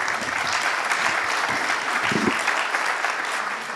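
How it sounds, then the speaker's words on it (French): Steady audience applause at a conference on battery-industry infrastructure in Hauts-de-France, a dense continuous wash of many hands clapping in a large room, sustained evenly throughout. "merci beaucoup, on vous applaudit."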